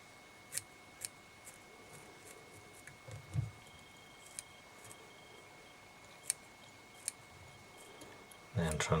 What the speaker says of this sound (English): I'm just resting the base of the scissor here on the eye of the hook and setting an angle for myself, and then I'm just trimming around